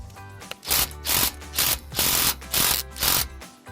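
A 15mm wrench tightening an exhaust clamp on a 2019-2023 Silverado during an AFE Apollo GT muffler install, heard as six even ratcheting bursts close up, with short pauses between each pull.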